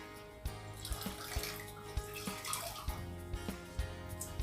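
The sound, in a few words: water dripping from wrung-out turban cloth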